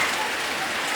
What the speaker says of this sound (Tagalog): malakas na ulan